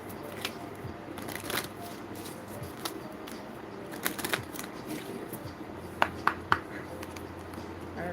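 Tarot cards riffled and shuffled repeatedly at close range, soft papery bursts with a few sharper snaps near the end, no talking.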